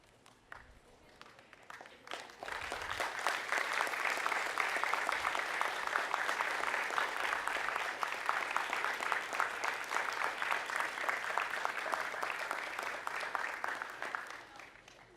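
An audience at the 2018 Fisheries and Marine Institute of Memorial University graduation ceremony breaks into sustained applause. Scattered claps swell within a few seconds into a full, even roar of hands that holds steady, then fades at the end.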